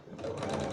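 A sewing machine back stitches a quarter-inch seam on a makeup bag in one brief, close burst of whirring.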